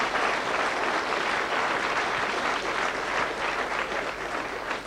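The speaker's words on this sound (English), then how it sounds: "Give them a nice round of applause." A club audience gives a warm round of applause for a comedy act, thick sustained clapping that stays loud and even throughout.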